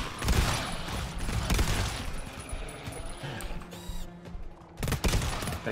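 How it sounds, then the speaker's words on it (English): Three-round burst weapon firing in the co-op shooter GTFO, dense rapid gunfire crowding a busy game soundscape, loud and continuous with a brief lull near the end. "What the fuck is that, a 3-round burst?"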